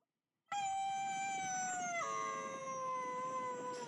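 A dog howls in a long, mournful, wavering tone, then drops into a lower whimpering howl, close and sustained after a brief silence.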